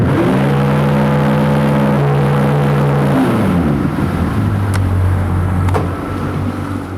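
A 2018 Yamaha 115hp four-stroke V MAX SHO 1.8L outboard motor runs loud and close, holding a steady hum, then dropping to a lower idle tone partway through, with brief clicks near the end.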